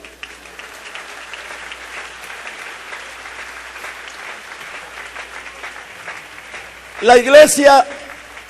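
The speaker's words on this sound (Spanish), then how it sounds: "¿Quiere darle usted un aplauso al Señor?" A church congregation bursts into brief, lively applause for about a second after a preacher speaks at length over a quiet room.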